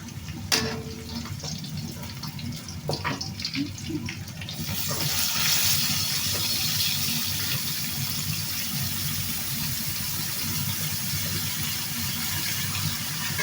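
Running tap water splashing into a kitchen sink as hands are washed, a steady hiss that swells after a few seconds and continues alone.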